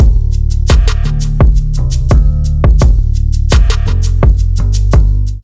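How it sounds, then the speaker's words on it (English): A UVI Soulbass bass line played clean without rock distortion, loud, punchy plucked notes in a steady syncopated groove with sharp attacks, alone with no talk. "So without the distortion, it sounds like this."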